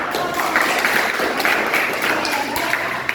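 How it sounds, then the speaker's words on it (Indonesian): A classroom group applauds after a debate activity, a steady wash of clapping from a roomful of students lasting about three seconds, fairly loud and close. "Tepuk tangan."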